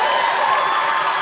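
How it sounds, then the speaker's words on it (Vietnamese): Applause and cheering from a studio audience at a televised Vietnamese game show, a dense, steady wash of clapping at moderate loudness with no pauses. "Một tràng vỗ tay."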